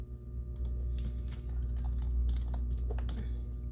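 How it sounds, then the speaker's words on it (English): Fast, irregular clatter of keys on a computer keyboard as passwords are typed during a Windows 11 Pro reinstall, close and steady over a low constant hum, with no talking. "while I type in my super secret passwords that nobody should ever know."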